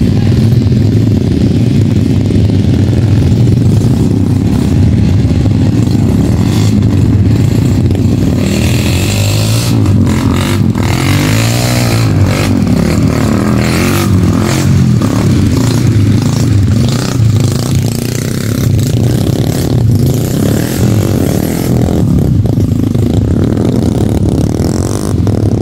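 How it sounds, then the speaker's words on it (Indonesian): A motorcycle taxi grinds along the muddy Seko road in Indonesia, its engine droning loudly and revving unevenly, with scraping and clattering bursts in the middle as it struggles through the mud; a voice is faintly present. "butuh perjuangan memang untuk melalui jalur Seko ini"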